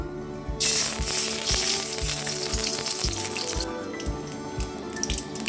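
Ghee melts over a low flame in a pan for Bohra malida, a bright continuous sizzle with faint crackles and drips over a low humming background, fairly close with no talk.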